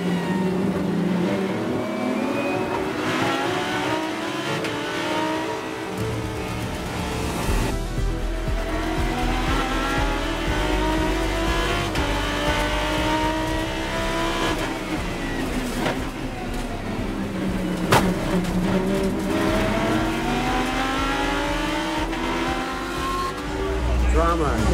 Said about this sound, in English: A 600 plus horsepower Lamborghini Huracan Super Trofeo Evo with anti-lock brakes, traction control